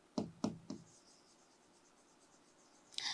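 Chalk or marker strokes on a board in a chemistry lesson on hydrogen chloride, three sharp taps in quick succession near the start and a short scratchy burst at the end, with quiet room hiss between and no talk.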